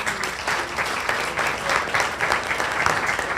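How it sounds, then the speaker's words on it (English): An audience applauds at a Tiger Bay legislative update event, a dense, steady clapping from a crowd that continues throughout. "Please give them a round of applause."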